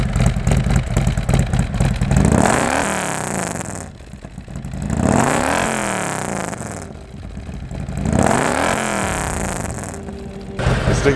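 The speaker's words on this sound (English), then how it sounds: "so you can hear the actual exhaust note" A Harley-Davidson bagger motorcycle's upgraded exhaust rumbles deep and close, revving up in three long swelling bursts that fall back to a throaty idle between them.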